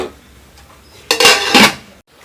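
A metal lid set down on a pot of simmering shark fish curry masala, a bright clattering clank lasting about a second after quiet kitchen background, close and fairly loud.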